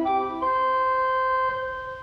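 Soft, mellow pipe organ flute notes, 4 foot flute, with a twelfth mutation stop adding a bright upper layer, a few sustained pitches shifting once or twice, played alone.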